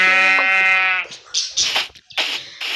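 A single drawn-out sheep bleat in Minecraft with a clear harmonic tone, followed by scattered game sound effects and soft clattering noises.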